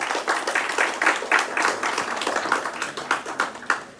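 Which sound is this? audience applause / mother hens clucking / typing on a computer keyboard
audience applause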